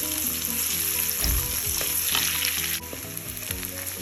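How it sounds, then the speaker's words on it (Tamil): Chopped onion crackles and hisses loudly in hot oil for gobi fried rice, a dense, close sizzle with some stirring clatter, then a slightly softer hiss toward the end; no voices. "எண்ணெய் நல்லா காஞ்சிடுச்சுங்க. நம்ம வெங்காயத்தை ஆட் பண்ணிடலாம்."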